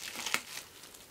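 A Pokémon card pack from a Charizard tin is torn open, giving a short, faint crinkle and rip of foil wrapping close by, with no talking.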